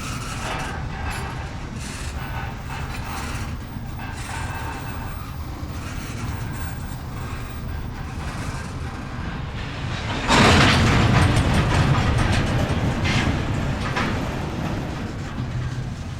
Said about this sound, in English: the rattling sound of knuckle couplers slamming against each other